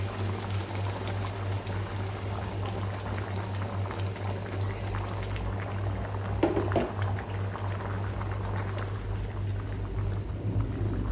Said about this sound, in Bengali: এখন আমি এখানে গরম পানি দিয়ে দিব